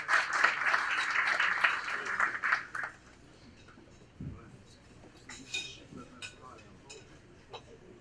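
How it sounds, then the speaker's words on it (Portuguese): Round of applause for a speaker at an afternoon tribute event, clapping that fades after a few seconds into a quieter room with faint clinks and a little talk. "uma salva de palmas para o senhor Eduardo Marçom"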